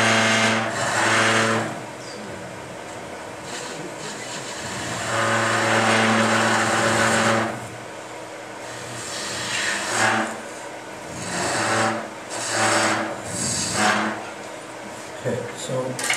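A gouge cuts a wooden spindle on a lathe with the bevel rubbing, producing a steady whirring hum and rising scraping passes, with some speech among the cuts.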